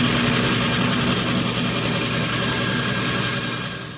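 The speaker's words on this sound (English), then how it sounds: "I'm probably just going to do that with a bandsaw" A bandsaw cuts wood to square up a shelf, giving a loud, steady whine and hum that holds level for several seconds before easing off slightly near the end.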